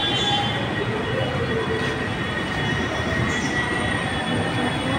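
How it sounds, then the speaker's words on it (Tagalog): An LRT light rail train runs at a station in Pasay, a loud steady rumble of wheels and carriages with high metallic squeal and ringing tones, close by and continuous. "Dito na kami sa LRT."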